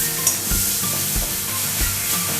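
Food fries in oil in a pan and is stirred for a home-kitchen remedy dish: a near, even sizzle with a few dull knocks and scrapes from the spoon.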